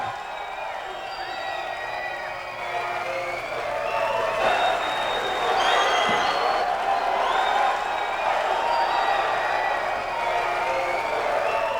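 A wrestling arena crowd cheers, whoops and applauds a newly crowned champion, a dense sustained roar that swells louder halfway through, with voices audible in the mix.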